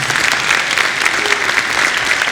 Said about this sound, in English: So we want to really give a round of applause for all of our sponsors